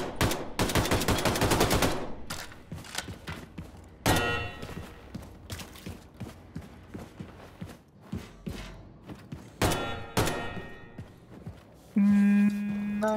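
Gunfire at a shooting range in Wolfenstein II: The New Colossus, loud rapid bursts of automatic shots separated by quieter gaps and single reports, ending on a sustained electronic tone.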